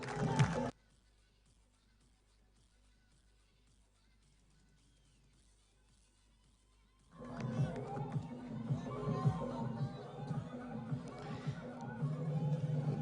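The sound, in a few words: cricket crowd cheering after a six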